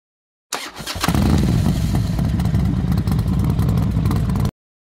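Yamaha TT-R125LE trail motorcycle engine catching after a short start-up clatter, then revving steadily and loudly close by for several seconds before cutting off abruptly.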